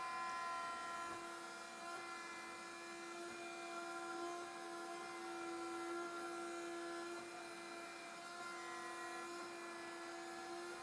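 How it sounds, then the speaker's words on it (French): A PuRuiKai window-cleaning robot runs on glass, giving off a steady, fairly quiet motor whine with a constant hum and tonal overtones. The sound is uninterrupted and has no talk over it. "Il est bruyant, on se rend bien compte de la puissance exercée pour adhérer à la vitre."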